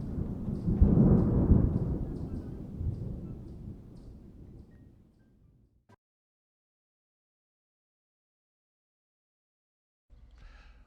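Thunderstorm sound effect in a stage performance: a loud, deep rolling thunder rumble swells in the first seconds and slowly fades out, followed by several seconds of silence and a faint return of rumbling at the end.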